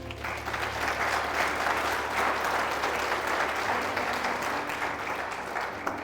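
A church congregation applauds steadily and loudly for about six seconds, a dense, sustained wash of clapping from a large crowd with a low hum running beneath it.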